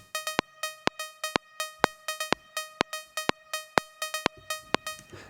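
A bright synth plucks short, bell-like notes in a repeating techno pattern, steady and dry, with no voices present.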